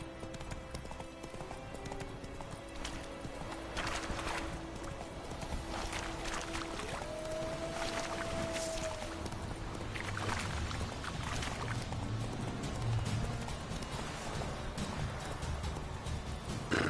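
Hoofbeats of the horse Roach in The Witcher 3 thud along steadily at a gallop, with a rushing, watery background and no speech heard.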